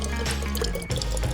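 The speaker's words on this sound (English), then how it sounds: "I'll just pour the eggs inside." Whisked eggs poured into an empty plastic water bottle, a short continuous close liquid trickle and glug lasting just over a second.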